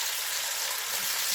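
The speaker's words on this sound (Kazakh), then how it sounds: "Қызып тұрған майға етімізді салып қуырып аламыз." Meat frying in hot oil for a Kazakh chickpea soup, giving a steady, close sizzle of hissing crackle that runs unbroken and alone throughout.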